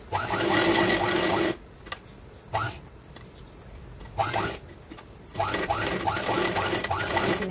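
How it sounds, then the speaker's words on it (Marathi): Sewing machine stitching a boat neck blouse, loud close bursts of rapid mechanical chatter broken by short pauses as the fabric is turned. "पूर्ण गोल राऊंड टिप मारून घेणार आहे"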